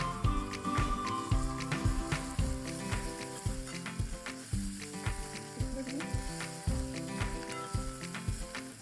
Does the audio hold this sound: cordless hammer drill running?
no